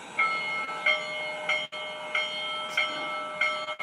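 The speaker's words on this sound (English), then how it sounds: "Here's the bell." A Lionel model train locomotive bell rings in repeated evenly spaced metallic dings, about six strikes, close and moderately loud over a steady background hum.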